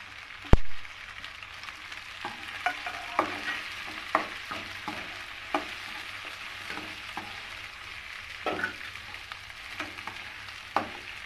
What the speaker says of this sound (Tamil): வெங்காயம் வதங்கிறதுக்கு கொஞ்சம் தூள் உப்பு போட்டுக்கலாம்.